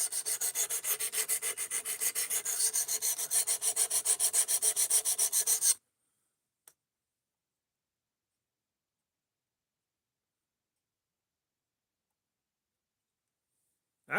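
Blade of an Ozark Trail axis lock knife drawn rhythmically across a sharpening stone in quick, even strokes for about six seconds, then near silence with one faint tap.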